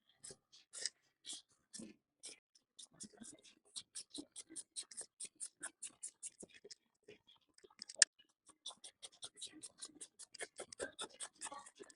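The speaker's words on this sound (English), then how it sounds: "I'm going to cut along these lines." Scissors cut through fabric along marked lines for homemade bias tape, a series of quiet, evenly spaced snips and crisp scratches, soft and close with no talking.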